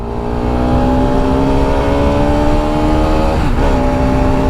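A Bajaj Pulsar RS200 motorcycle being ridden, its engine holding a loud, steady drone close by that climbs gradually in pitch, then dips briefly with a shift before settling again.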